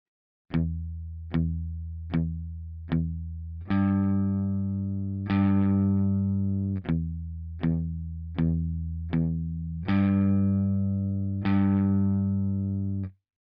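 A distorted electric guitar plays a steady pattern of short, damped, chugging chords, with a few longer ringing ones between them.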